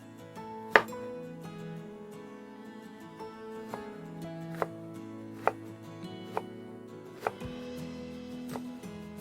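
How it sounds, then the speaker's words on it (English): A kitchen knife slicing a small onion into thin slivers on a cutting board, sounding as a series of crisp, separated chops at an uneven pace, close and fairly quiet with a faint background hum. "we're just going to cut this small onion in thin slivers"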